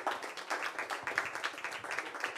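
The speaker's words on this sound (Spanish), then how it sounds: "Por favor, un aplauso." Audience clapping for a drummer introduced by a bandleader at a live music show in Cauz, a steady patter of many hands, fairly faint and distant, with no talk over it.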